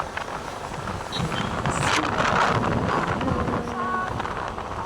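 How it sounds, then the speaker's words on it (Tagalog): Steady wind roars past on a motorcycle carrying three riders on a long ride, a loud, constant rush buffeting the microphone from start to finish. "Sarap-sarap talaga ng hangin dyan guys."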